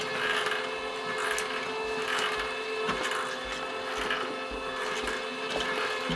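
A LAB500 labeling machine with rubber ribbon conveyor runs steadily, a continuous mechanical whir with faint periodic ticks and clicks recurring about once a second, no talking.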